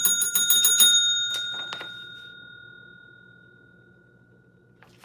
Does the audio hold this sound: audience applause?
no